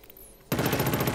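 Rapid automatic gunfire from Killzone Shadow Fall cuts in abruptly after a quiet moment, a loud, fast, even burst of shots that carries on to the end.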